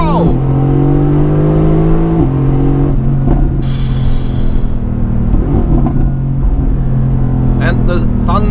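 A 2018 Mercedes-AMG GT with 612 hp launches from a race start, its engine loud inside the cabin, the pitch climbing and dropping through quick gear shifts, with a voice breaking in over the roar.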